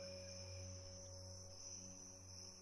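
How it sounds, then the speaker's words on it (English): Crickets chirp faintly in a steady, continuous drone across a night scene in a video game, with a thin high whine running under the quiet insect hum and no voices. "You can hear the crickets."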